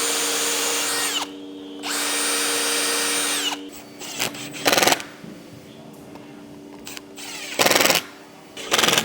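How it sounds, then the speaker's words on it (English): A cordless impact driver whirs in two sustained bursts, then rattles in several short hammering bursts as screws are driven into a camper van bed frame, with quiet handling sounds between. "We're done with our impact driver and our drill."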